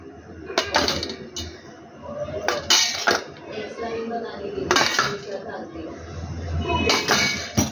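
Metal spoons clink and rattle as they are set into an Indian masala tray, with a few sharp knocks as the container lid is shut, all under steady close talking.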